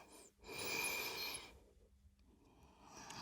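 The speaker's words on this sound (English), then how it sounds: "Deep inhale." A deep, drawn-out inhale during a power yoga flow, breathed loudly and close for about a second before trailing into quieter breathing.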